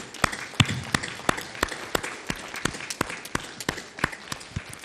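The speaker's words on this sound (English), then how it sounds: "a big, big round of applause" Graduation audience at a university winter ceremony applauding, with loud, sharp individual claps standing out from a steady, dense round of clapping that carries on throughout, no talking over it.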